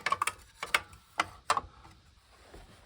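A wrench ratchets loose the bottom retaining nut of a spa hot tub heater element, a few quick sharp clicks followed by spaced single ratchet ticks, close and alone.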